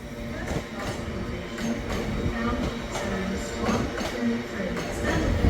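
Class 800 train, unit 800108 bound for London King's Cross, running through Newcastle station with a steady, close, broadband rumble and rail clatter that builds slightly toward the end, a voice faintly audible within the station noise.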